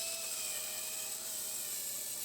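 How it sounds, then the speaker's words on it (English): A circular saw with a sharp blade makes a plunge cut into the back side of a wooden workbench. It gives a steady, loud, high-pitched whine with sustained tonal overtones, running unbroken for the whole stretch. "Had to do a plunge cut here on the back side, but with a sharp blade on the circular saw, no problem."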